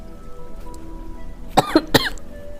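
Two or three sharp, close human coughs in quick succession near the end, breaking an otherwise quiet indoor room.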